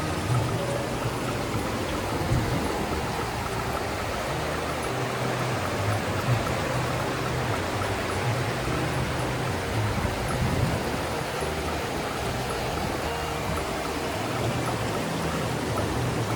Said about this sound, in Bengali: নদী কলকল শব্দে বয়ে যাচ্ছে, পার্বতী নদী।